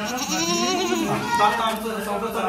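Beetal goats bleat with wavering, nasal cries over steady background chatter of people talking nearby on a goat farm.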